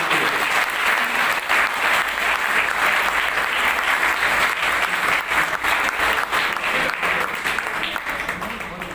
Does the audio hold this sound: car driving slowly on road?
no